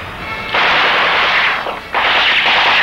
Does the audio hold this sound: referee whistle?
no